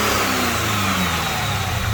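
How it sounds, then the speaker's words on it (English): A Cadillac CTS-V engine with a cold air intake revs loudly and continuously, its pitch rising and holding close by. "Give me a couple little revs."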